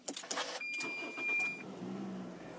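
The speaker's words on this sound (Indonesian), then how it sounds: "Kita nyalakan dulu mesinnya. Tinggal pencet, udah start stop engine button." A 2012 Toyota Corolla Altis 1.8 automatic cranks and catches after a few clicks and a beep from its push-button start, then settles into a low, steady idle, heard from inside the car.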